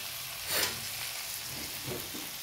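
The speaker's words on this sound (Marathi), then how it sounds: "कांदे चांगल्या प्रकारे मिक्स झाले, चांगल्या प्रकारे परतलं आहे." Chopped onions sauté in a hot pan, a continuous bright sizzle with soft stirring scrapes swelling briefly, steady and close with no voices.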